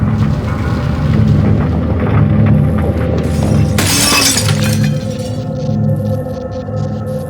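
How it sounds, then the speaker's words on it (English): Debris crashes into and shatters a glass elevator in Half-Life 2 Episode 1, a sudden loud burst of breaking glass over a steady low mechanical hum, with rumbling continuing afterward. "this debris will break the elevator that is coincidentally made out of glass"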